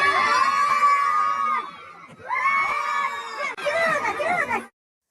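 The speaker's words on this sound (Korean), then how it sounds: "구경 나온 사람들은 말리기는커녕 함성을 지릅니다." A crowd of onlookers on a busy late-night street in Suwon, South Korea, shouting and cheering in loud, overlapping bursts. There are two long swells with a brief dip between them, then it cuts off abruptly.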